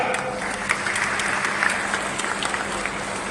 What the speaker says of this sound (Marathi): एका टाळ्या वाजवा